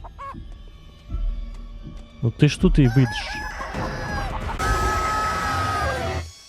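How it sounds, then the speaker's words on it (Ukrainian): Chicken clucks and crows from a hostile hen in a horror video game, loud squawking bursts climbing into a sustained crow, over low rumbling game ambience with a brief spoken line. "Курка мене атакує, навіть не торкаючись до мене."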